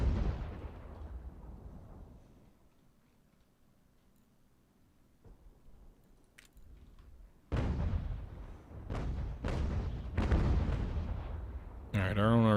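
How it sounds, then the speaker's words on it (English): Artillery fire in Ultimate General: American Revolution, with a booming cannon shot that decays into a low rumble, followed after a lull by several more sharp blasts in quick succession, loud and close. "our own artillery is returning fire at least a little bit"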